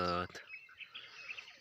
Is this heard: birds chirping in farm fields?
yes